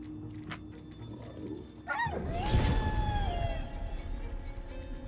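A fantasy video game creature lets out a savage howl ability, a rising, wavering canine howl that swells loudly and trails off amid game background sounds, preceded by faint yips.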